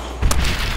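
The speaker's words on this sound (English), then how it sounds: "Grenade." A grenade explosion in Call of Duty: World at War, a single loud, close boom with a sharp onset and a rumbling, noisy tail lasting under a second.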